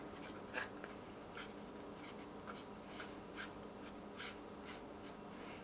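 Paper box scores folded by hand with the fingers: soft, continuous rustling and light creasing of card stock, close but quiet, with a few slightly sharper crinkles and no speech.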